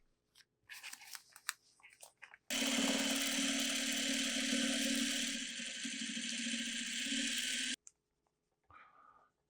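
A sewing machine stitching the middle seam of a quilt block runs loud and steady for about five seconds, framed by brief clatter of fabric handling before and after.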